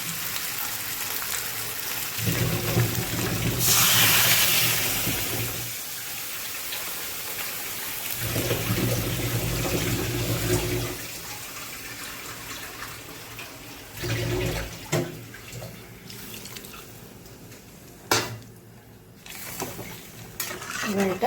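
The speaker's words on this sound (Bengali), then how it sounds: "এবার আমার জল দেওয়ার পালা।" Water poured into a cooking pot, coming in several rushing bursts separated by pauses, with softer splashes and clatter between pours.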